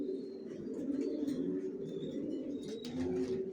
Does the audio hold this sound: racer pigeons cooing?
yes